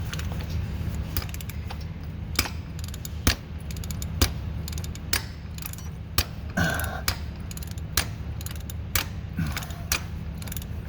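A socket wrench ratcheting on the rear crank seal of a Ford 6.7 Powerstroke diesel: repeated clicking pawl strokes at an uneven pace over a steady low hum, close and fairly quiet.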